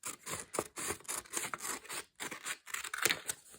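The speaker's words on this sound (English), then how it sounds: "you will need scissors in order to cut this part off" Scissors snip through paper, trimming a sheet along a line into a square for a bookmark craft; close, repeated cutting strokes in short bursts, no talking.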